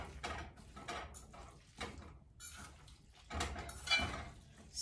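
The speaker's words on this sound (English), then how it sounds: "Stir it around, combine it together." Jack mackerel spaghetti with gravy being stirred in a pot, irregular scrapes, clinks and wet squelches of a utensil against metal, close and fairly quiet, with no voices.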